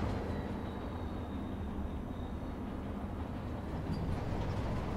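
A subway train rolling along in the Spider-Man 3 video game: a continuous, loud, low rumbling drone with steady mechanical clatter that holds constant throughout, with no voices.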